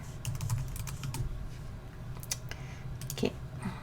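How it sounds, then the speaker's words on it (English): Steady typing on a computer keyboard, with rapid uneven key clicks running throughout at close range over a low background hum. "You type in the occupation that you want to find."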